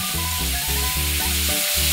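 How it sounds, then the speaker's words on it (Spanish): Three meats, chicken among them, seasoned with oregano and refrying in a pan for tapao arrecho, give a steady, close sizzle with a tonal, melodic layer running underneath. "Una vez que ya se han refrito de nuevo las carnes, las tres carnes"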